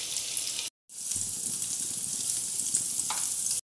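Eggs frying with turmeric and chili powder, a strong steady hiss of hot oil that stops briefly and then resumes, close and fairly loud, with no talk.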